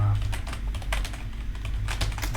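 Rapid keystrokes on a computer keyboard rattle steadily throughout, close and fairly loud, with a low hum underneath; no voice is evident in this stretch.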